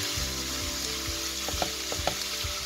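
Minced meat sizzles steadily in a hot pan for a potato-and-beef pie, a dense continuous frying hiss punctuated by soft scraping knocks of stirring, with no voices.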